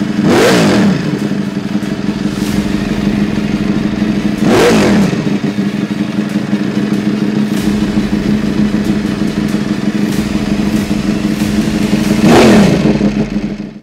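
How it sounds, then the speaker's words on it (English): A Ducati Desmosedici RR motorcycle engine idles with a deep steady rumble, sharply revving three times in loud bursts spread across the clip. "I can feel this inside my bone marrow."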